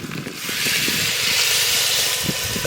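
Water poured into a hot pan of cooking mutton, a loud steady hiss and sizzle of steam rising quickly and holding close up for a few seconds.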